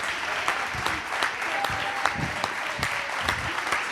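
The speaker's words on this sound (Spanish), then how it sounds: "¡Y un aplauso para Javier Zapater!" An audience at an interview event applauds Javier Zapater, a steady round of dense clapping from a crowd, fairly even in loudness with scattered sharper claps and faint voices underneath.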